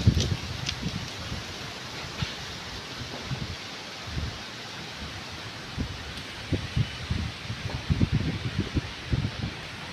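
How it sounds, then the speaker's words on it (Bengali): Strong Kalbaishakhi storm wind blowing without rain, a steady rushing roar with gusty bursts and rustling, loud and close to the microphone. "প্রচণ্ড আকারে বাতাস। বৃষ্টি নেই কিন্তু বাতাস।"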